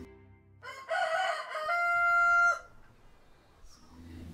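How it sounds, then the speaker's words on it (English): A single rooster crows in the dark, one loud drawn-out call rising then holding a long level note before cutting off, over a quiet low background. "Just then, cook's rooster crowed in the darkness."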